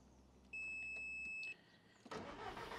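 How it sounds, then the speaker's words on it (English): An Audi starts with its air conditioning switched off: a steady dashboard chime tone sounds for about a second, then the engine cranks and catches into a steady idle nearby. "I'll start the car without the air conditioning on to start with"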